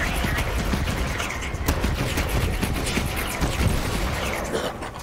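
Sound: gunfire from a gun in the video game Borderlands 3

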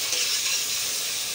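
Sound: chicken added to the pan, sizzling

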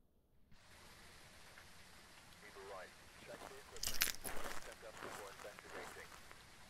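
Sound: heavy rain in the video game Phasmophobia

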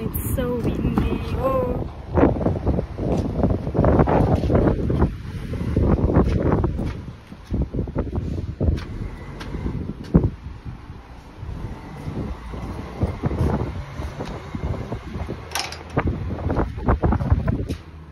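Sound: strong wind blowing outdoors, with wind noise on the microphone

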